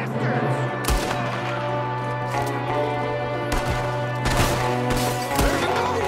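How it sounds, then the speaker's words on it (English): Repeated close gunshots crack through a Red Dead Redemption 2 shootout, irregular sharp bangs over a steady mechanical drone, with a few heavier bursts near the end. "There's another one shooting from the window!"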